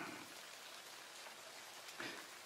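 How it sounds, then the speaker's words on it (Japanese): Steady soft rain falling on surfaces outdoors, a fine continuous patter with a few slightly louder drips, quiet and even throughout with no voices. "雨が嫌ならこの木陰に来るがいい"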